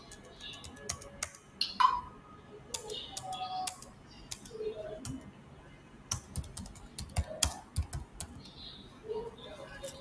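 Keys click on a computer keyboard in irregular bursts of quick, light taps, close and fairly quiet, with a few pauses between runs.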